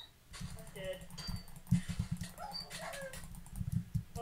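A dog in Minecraft survival games, with short in-game barks and whimpers under excited overlapping talk from players.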